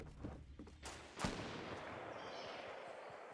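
Distant sniper fire in the Fortnite video game: one sharp far-off crack stands out, with a couple of softer earlier pops, over a steady low background hum.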